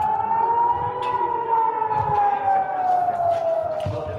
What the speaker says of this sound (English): as you can hear, there's another siren